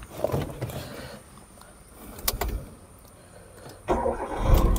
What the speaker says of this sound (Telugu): సింగిల్ సెల్ఫ్లో స్టార్ట్ అయింది చూడవచ్చు మీరు.